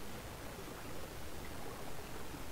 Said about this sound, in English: And water sounds.